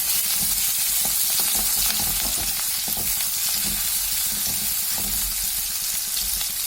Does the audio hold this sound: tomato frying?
yes